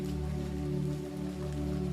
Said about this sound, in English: It's unlikely there will be a break in the rain today